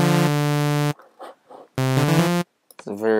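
A basic saw patch on the ES2 synth in Logic Pro 9, played from a computer keyboard, rings out in loud sustained harmonic notes, broken by a short pause with quiet murmuring before the next held tones.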